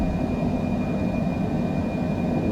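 A Cessna Citation C700 business jet climbs out after takeoff in Microsoft Flight Simulator, its engines giving a steady, loud, even roar with a thin whine held on top, with no voices.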